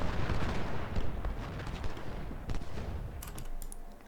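Cannon artillery fire in the Ultimate General: Civil War video game booms and crackles as a dense, loud volley of overlapping blasts, thinning toward the end with a few sharper reports.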